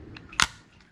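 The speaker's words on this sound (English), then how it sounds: "Bolt locked to the rear, okay? And you can release it like so" The locked bolt of a Kel-Tec CP33 pistol is released, a single sharp metallic snap at close range against near silence.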